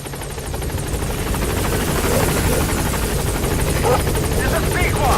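Support helicopter in Metal Gear Solid V arriving at a landing zone, its rotor chopping steadily and loud, growing slightly stronger as it draws near, with a voice speaking over it.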